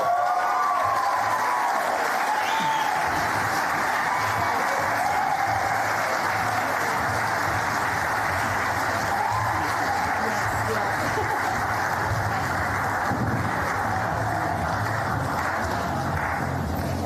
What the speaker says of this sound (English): Let's have a huge round of applause for Macy as they make their way up here